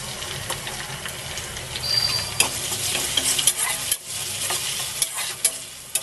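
Chopped tomatoes hit a pan of browned onions for egg dal tadka, sizzling and frying steadily up close while a spoon stirs and scrapes now and then.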